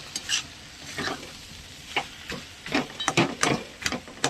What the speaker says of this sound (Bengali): দেখুন নাড়াচাড়া করছে